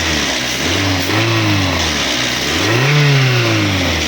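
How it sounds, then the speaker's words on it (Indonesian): A car engine with a rough internal noise is revved twice, loud and close, its pitch rising and falling over a constant harsh mechanical roar. "coba saya gas bentar ya. Gas dulu ya"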